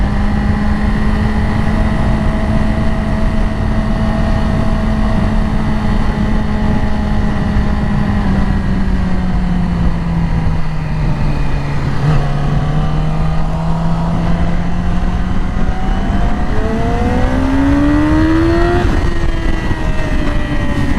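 A Yamaha R6 sport motorcycle engine holds a loud, steady high-RPM whine from close by, its pitch dipping slightly and then climbing again as the throttle opens near the end, with constant wind rush and no talk.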